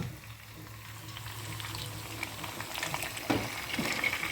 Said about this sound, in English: I will pour in my dal now.